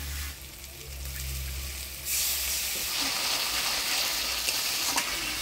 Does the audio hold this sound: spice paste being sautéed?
yes